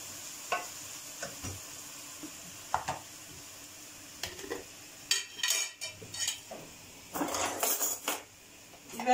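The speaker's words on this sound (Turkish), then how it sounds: "Etim ve soğanım biraz kavrulsun beraber." Meat and onions sauté together in a pan, with a soft sizzle under scattered scraping and clinking of a utensil against the metal, growing busier toward the end.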